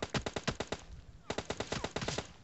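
Rapid automatic gunfire in a shooting video game comes in two dense bursts of quick, evenly spaced shots, loud and close, with no voices over it.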